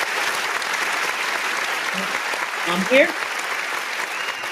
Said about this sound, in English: Just a bunch of people clapping for you